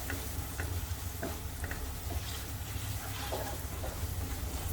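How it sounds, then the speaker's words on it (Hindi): Cumin, chili, coriander and turmeric powders stirred in a hot pan, giving a steady close sizzle with soft scraping strokes throughout and no voices. "मसालों को मिक्स कर लेते हैं।"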